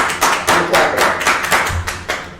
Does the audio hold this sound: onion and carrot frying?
no